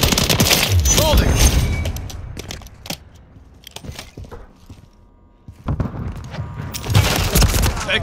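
Automatic gunfire in Call of Duty Modern Warfare 3 multiplayer, with loud bursts of rapid shots at the start and end, a quieter stretch of scattered single cracks in between, and game radio voices calling out at times.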